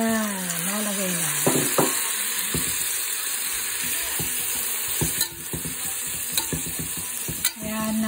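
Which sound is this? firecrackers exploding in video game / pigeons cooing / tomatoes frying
tomatoes frying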